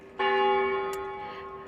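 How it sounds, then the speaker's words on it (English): St. Mary's church bell strikes once, loud and near, its ringing tone hanging and slowly fading over the rest of the moment. "That is St. Mary's bell, by the way, that you can hear."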